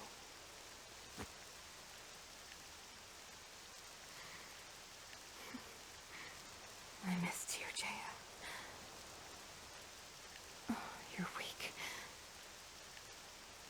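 Steady rain hiss fills the scene in the video game Octopath Traveler 2, with a couple of brief spoken exchanges breaking through in the middle.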